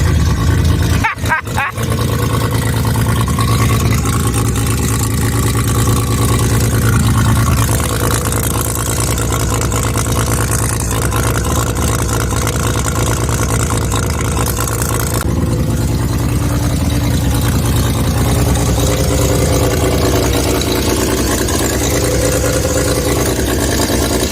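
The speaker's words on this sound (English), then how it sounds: "Is the exhaust functioning at all? It sounds like open headers." A Mazda RX7 with its 12A rotary engine idles with an open exhaust, a loud, raspy, continuous drone that dominates throughout, with voices talking over it.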